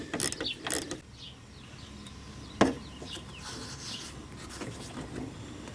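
Socket on a small 1/4-inch drive ratchet turns a bumper screw on a 2004 Mustang, giving faint clicks and rubbing mechanical noises with one sharper snap midway.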